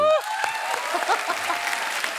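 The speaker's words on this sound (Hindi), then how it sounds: "जोरदार ताली हो जाए" Studio audience applause during a Hindi TV show segment, a short burst of clapping with a crowd murmur, starting right after a brief voice and carrying on for a couple of seconds.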